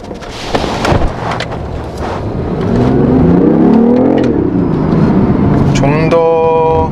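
A BMW i8 coupe hybrid sports car engine in sport mode hums and builds steadily as it accelerates, the tone rising and swelling, with a brief whine of a gear change near the end.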